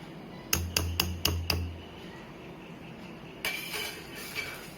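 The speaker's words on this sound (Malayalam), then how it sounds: "നന്നായിട്ടൊന്ന് ഇളക്കി കൊടുക്കുക." A spoon stirs Palakkadan mulakushyam gravy in a pot, making five quick rhythmic metallic clinks, then a pause and softer scraping clatter, all quiet and close with no talking.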